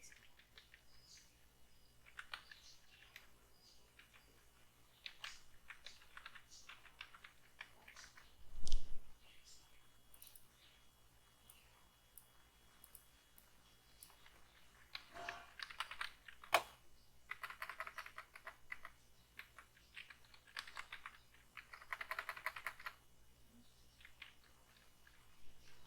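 Light, quiet computer-keyboard typing while editing text in a circuit and PCB layout program, scattered keystroke clicks coming in loose bursts with a few pauses and one soft thump, low in level against faint room noise.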